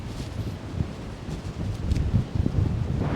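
Steady, strong wind in a high Swiss mountain village buffeting the microphone, a low rumbling roar with gusts swelling louder toward the end.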